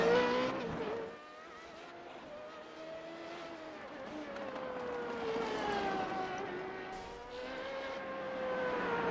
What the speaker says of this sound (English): Cedric Beal leading the cars on track for qualifying here so far for duel number 2